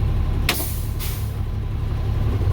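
A truck's air brake lets out two short, sharp hissing bursts during a CDL pre-trip brake test, while the parked truck's engine idles with a steady low rumble underneath.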